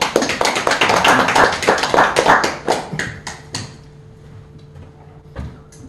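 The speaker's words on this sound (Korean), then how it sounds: "예, 박수로 자리 모시겠습니다." Audience applause at a 2022 Korean press forum: dense, close clapping fills the room for about three seconds, thins out and fades to a quiet hum, and one last clap sounds near the end.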